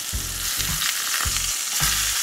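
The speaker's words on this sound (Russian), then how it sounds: "Отправляем их на разогретую сковороду." Pork mince cutlets are laid into a hot frying pan, giving a steady sizzle with a few soft thuds as each one goes in, close and clear with no talking.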